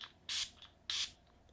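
Two short hissing bursts of Catrice HG Freezing Spray setting spray, each about a third of a second, separated by a brief pause and heard close up.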